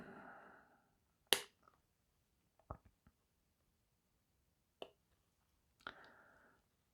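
Three crisp snips of a cutter freeing Warhammer 40,000 plastic model parts from the sprue, isolated sharp clicks close by with quiet pauses and faint handling rustles between them.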